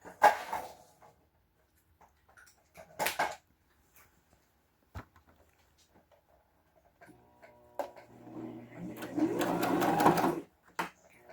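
A sewing machine stitches denim jeans during an alteration, starting with brief scattered taps and knocks, then running in a steady whirring burst near the end, close and moderately loud.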